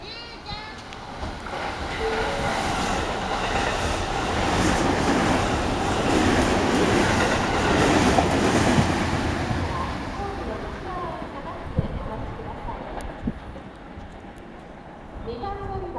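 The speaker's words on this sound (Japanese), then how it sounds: "電車が通過いたします。" A JR 207 series rapid train roars through Konoike-shinden station without stopping, passing another train; a loud, sustained rumble and rail clatter fill the clip while a platform announcement voice speaks over it.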